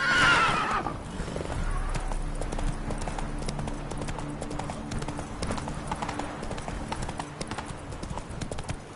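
Roach the horse in Witcher 3 gives a loud whinny at the start, then trots on with steady, close hoofbeat clip-clops that carry on for several seconds.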